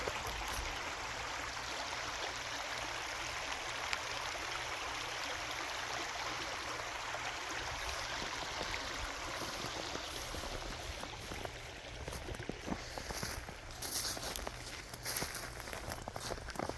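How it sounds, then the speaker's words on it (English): Steady broadband rush of a snowy creek flowing over rocks, continuous and fairly close, with occasional crunching footsteps toward the end and no talking. "right now I'm gonna shut up and let you listen to the water"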